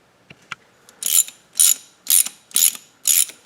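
Ratchet tightening intake manifold bolts during a 3900 LZ9 V6 head gasket job, five crisp bursts of rapid clicking at an even rhythm, close and loud, preceded by a few light metallic taps.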